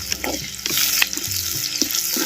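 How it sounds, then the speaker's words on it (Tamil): Ground chili and curry leaves sautéing in hot coconut oil for a fish curry, a steady close sizzle with scraping and stirring sounds from a utensil in the pan, no voices. "சேர்த்த அனைத்து பொருளையும் அப்படியே தேங்காய் எண்ணெயில் நல்லா வதக்க வதக்கணும்"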